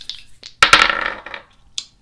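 Dice rolled during a tarot and oracle card reading make a brief clattering burst of small tumbling clicks, followed after a short pause by one last light click, close and fairly quiet.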